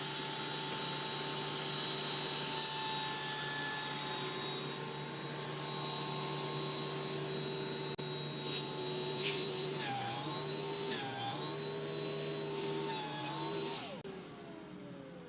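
A Cutech 40800H planer runs in high feed as wood passes through, a loud steady motor whine and hum with shifting tones near the end as the board feeds.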